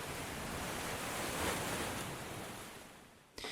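Sea waves wash in at the end of a music track, a soft, continuous surf hiss that swells slightly and then stops abruptly.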